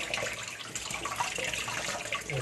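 Chicken is washed under running water, producing a continuous, close splashing gush of tap water with no pauses.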